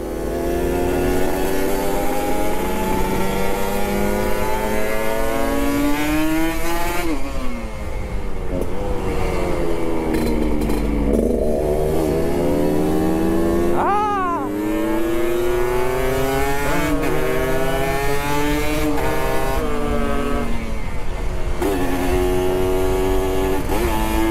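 A Kawasaki Ninja RR 150cc two-stroke motorcycle races hard, loud and close, revving up through the gears with rising pitch sweeps and shifts, and the engine note stays continuous throughout.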